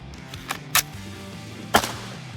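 An AR-15 rifle fires outdoors, with three sharp shots spaced unevenly over a couple of seconds against a low background hum.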